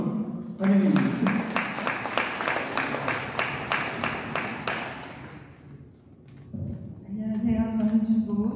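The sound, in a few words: applause welcoming a speaker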